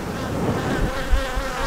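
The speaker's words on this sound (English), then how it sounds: "Bees." Honeybees buzz loudly and densely at close range around an opened hive, a thick continuous drone of many wings with no voices.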